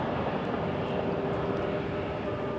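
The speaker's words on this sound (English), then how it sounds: "Lining up next. That'll be a Republic Airways, Embraer 175." A Republic Airways Embraer 175 regional jet flying for United Express lines up on the runway at Toronto Pearson, giving a steady, loud, even engine rumble and whine with no break throughout.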